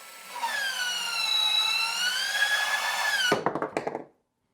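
Kobalt 24V cordless PVC cutter slicing through PVC pipe: a steady rising motor whine for over three seconds, then a quick burst of cracking snaps as the blade breaks through, close and loud with no talk.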